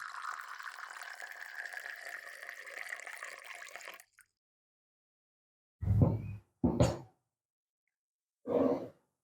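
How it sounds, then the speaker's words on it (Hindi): Fresh mango juice pours steadily into a glass over ice for about four seconds, then stops; a few short, louder thumps or handling sounds follow. "अब इसमें जूस डालते हैं।"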